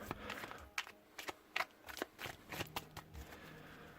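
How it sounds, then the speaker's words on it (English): A deck of tarot cards is shuffled by hand in a quiet room, giving faint, irregular papery clicks and riffles in small clusters, soft and close with no talking. "I'm just going to be shuffling"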